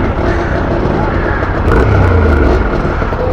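Trail motorcycle engine labouring up a steep ascent during a trail riders' skills day, a loud steady exhaust note that swells and deepens midway, close to the microphone.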